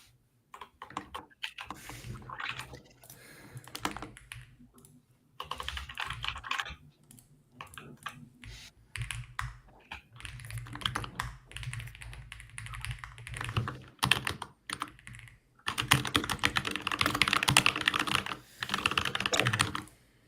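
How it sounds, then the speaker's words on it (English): Rapid typing on a computer keyboard, close and fairly quiet, in bursts of dense clicking separated by short pauses, with a long heavy run near the end. "your keyboard is crazy."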